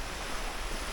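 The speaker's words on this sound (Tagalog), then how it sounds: "Ayan po yung dagat." Sea waves wash onto the shore at Brgy Belen, Calabanga, in Naga, Bicol, as a brief, steady broadband rush mixed with wind buffeting the microphone.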